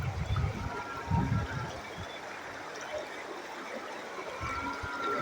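Floodwater rushes through a village stream in a continuous broadband wash of flowing water, fairly faint and steady, with occasional low rumbling gusts rising beneath it.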